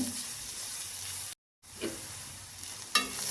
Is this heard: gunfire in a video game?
no